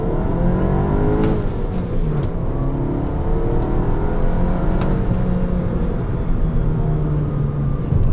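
A 2016 Volkswagen Jetta 1.8T with a manual gearbox accelerates hard from low speed, its engine note rising steadily and loud for several seconds, with a brief drop near a shift and continuous road and wind roar underneath.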